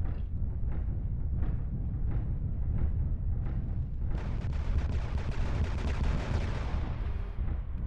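Gunfire in the MechWarrior Living Legends game: a steady run of repeated shots at a regular pace, then a dense roar of heavy continuous fire over constant battle rumble. The fire is loud and sits close.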